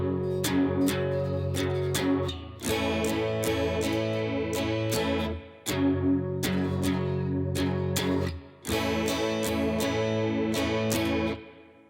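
Electric guitar through a chorus effect plays the two-chord pre-chorus of a song, close and steady, with the strummed pattern repeating several times in rhythm.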